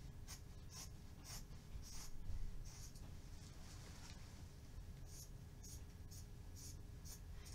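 Dull paper scissors cut through a fabric panel with faint, close, uneven snips and rasping strokes in a quiet room.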